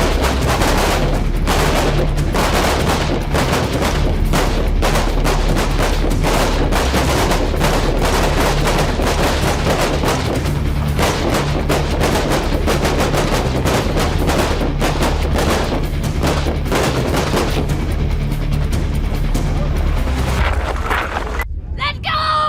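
Rifle gunfire fills a shooting drill with standing, kneeling and prone positions, a dense, loud, continuous barrage of overlapping shots that cuts off abruptly at the end.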